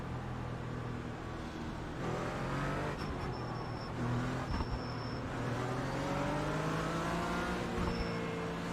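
A race car engine drones and revs steadily in iRacing, its pitch rising and falling through a turn under a continuous rumble of tire and track noise, with no talking.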